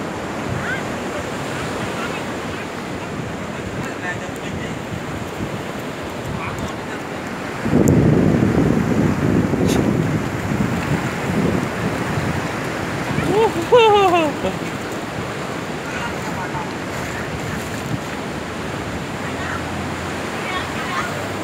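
Waves surge and wash onto Quảng Ngãi beach, a broad constant roar of surf with wind rumble against the microphone and a louder rush partway through; voices call out now and then over the water.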